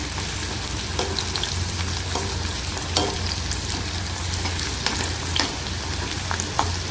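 Ivy gourd (kovakkai) chilli pieces deep-frying in hot oil on a medium flame, giving a steady close sizzle with scattered pops and crackles throughout.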